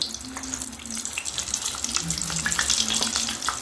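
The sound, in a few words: bananas frying in oil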